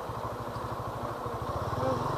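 A motorcycle engine runs with a steady low, rapid pulsing that rises slightly toward the end as it passes on a quiet morning street, over a constant background hum.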